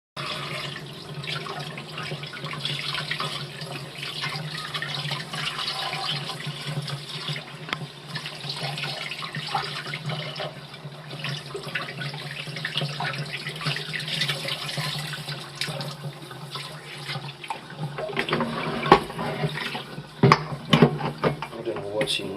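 A kitchen tap runs steadily into a sink while squid is cleaned, a constant close splashing wash, with a voice speaking now and then over the flow.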